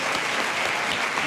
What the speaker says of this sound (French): qu'on peut applaudir bien fort